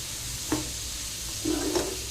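Chili powder stirred through a fish pickle of mackerel and oil, with a few brief scraping and sizzling strokes near the half-second mark and again around one and a half seconds. Quiet and close, no voices.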